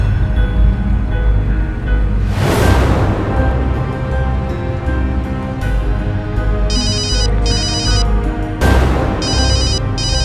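A phone rings on a highway taxi in a crime drama, two short bursts of electronic trilling near the end, heard over heavy dramatic music with deep booming hits.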